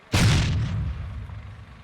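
Ukrainian artillery firing once at the front line, a single heavy boom with a sharp onset and a long rumbling decay that fades out over under two seconds, with no voices.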